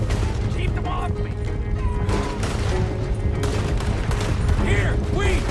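Gunfire erupts during a stagecoach robbery in a video game, dense bursts of shots over a continuous loud backdrop of galloping and rumbling action, with shouting voices cutting in now and then.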